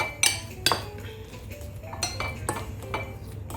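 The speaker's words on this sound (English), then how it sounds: "I'm going to add it into the egg and very well mix it up" A spoon clinks against a bowl as cooked kebab meat is mixed into egg, a few sharp close taps and scrapes over a quiet background.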